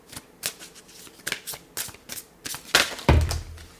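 Green Witch oracle cards are shuffled by hand, a quick series of papery riffles and taps ending with a louder thud as the deck is squared.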